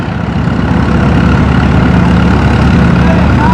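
Case SC tractor hauling the sled at a tractor pull, its engine roaring loud and steady throughout with a deep low rumble under the faint din of the event.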